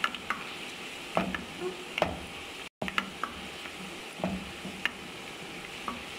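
Sliced onions fry and sizzle in a pan for a Pakistani egg and potato qorma, a soft steady crackle broken by occasional stirring clacks and taps of a utensil.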